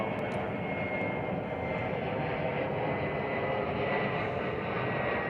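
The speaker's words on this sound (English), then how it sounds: "Apex Logistics, operated by Atlas Air. 747. Flight 8936." Boeing 747 cargo jet of Atlas Air departing runway 22 left at Chicago O'Hare, a loud, steady engine roar at full power, continuous throughout with no talk.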